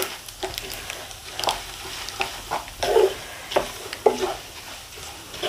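Fennel seeds and other spices are stirred in a pan over a low-to-medium gas flame while making Nagpur-style poha chivda, with irregular scraping strokes and soft sizzling, some strokes sharper and louder.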